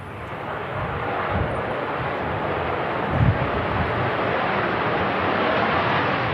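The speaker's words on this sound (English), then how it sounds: "We do have a TUI Dreamliner going to take off shortly as well" Broadband roar of a TUI Boeing Dreamliner airliner taking off at Manchester Airport on a windy day, steady and fairly loud throughout, with gusting wind noise and no talk.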